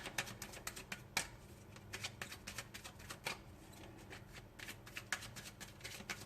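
Tarot cards are shuffled by hand in a quiet room, a steady patter of soft riffling flicks and taps that continues without pause throughout.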